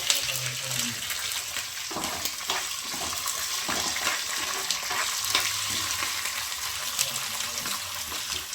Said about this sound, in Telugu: చూడండి వేగిపోతుంది టైంకి కొద్దిగా పచ్చిమిర్చికి ఉప్పు కొద్దిగా ఒక చిటికెడు వేసుకుంటున్నానండి